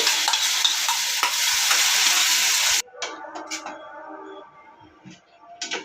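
Pineapple paste frying in ghee on a tawa for pineapple kesari bath, a loud continuous sizzle with stirring scrapes that cuts off abruptly, leaving quieter intermittent clinks and soft frying noises.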